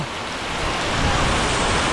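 Heavy typhoon rain roars without a break, a thick, even wash of downpour drumming on surfaces close by, with no voices.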